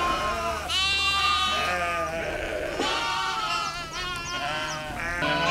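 Several sheep with lambs bleat loudly and repeatedly at a farm feeder, overlapping calls close by over constant barn noise.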